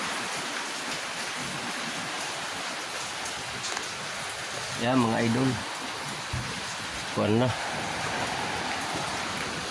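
Steady outdoor rain falls on a surface during work on a large wooden fishing boat, a broad even wash running throughout while someone speaks briefly twice.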